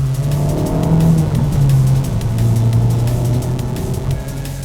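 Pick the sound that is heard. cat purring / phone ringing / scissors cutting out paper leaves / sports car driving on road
sports car driving on road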